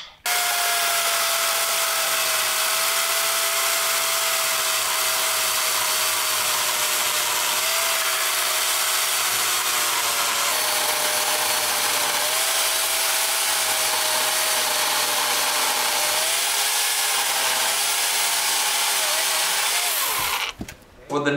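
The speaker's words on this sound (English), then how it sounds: "when we use our chainsaw, we can be as precise as possible" A chainsaw runs steadily while cutting a wood beam, its buzzing drone wavering slightly in pitch for a long stretch before cutting off near the end.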